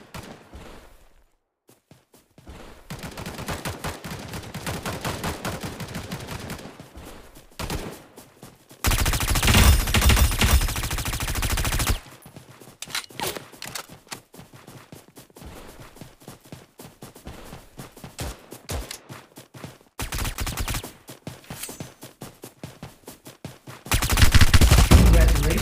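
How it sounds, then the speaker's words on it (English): Bombardment gunfire in the mobile video game Omega Legends, loud bursts of explosive fire in several heavy stretches, with quieter in-game sounds between them. "Warning, incoming bombardment."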